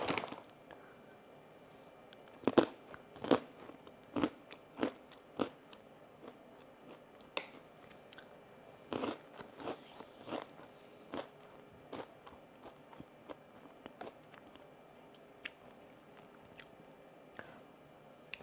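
Close, crisp crunching and chewing of a spicy dill pickle flavored pretzel mix with assorted pretzel shapes, sharp irregular bites spaced over a quiet background.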